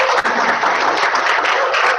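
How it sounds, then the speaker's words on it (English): Students in a masterclass audience giving a speaker a round of applause, dense steady clapping filling the room, loud and continuous without voices. "Students, can we have a huge round of applause for Mr."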